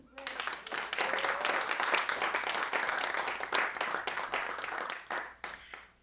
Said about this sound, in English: let's give a round of applause to Robin Hopper